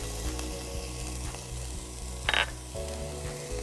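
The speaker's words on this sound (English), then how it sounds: "we're gonna saute up some minced onion" Minced onion sautéing in coconut oil gives a close, steady sizzle and crackle, with a brief sharper hiss midway and some low clunks from the pan beneath.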